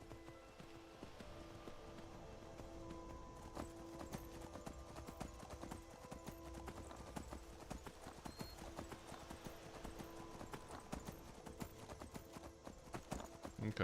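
Horse hooves clop in a steady, quick rhythm as a mount gallops in Skyrim Anniversary Edition survival mode, the repeated beats carrying over a quiet background hum throughout.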